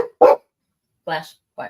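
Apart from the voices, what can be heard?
Belgian Malinois dog barking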